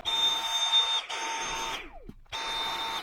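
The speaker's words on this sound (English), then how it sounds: "And we're going to vacuum these carbon ones" A vacuum nozzle passes over the carbon filters of a Dyson HP04 Hot & Cool fan. It gives a loud, steady whine with a short dip near the start, then cuts out with a falling sweep before starting up again. No voices.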